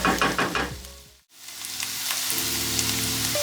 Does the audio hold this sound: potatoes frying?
yes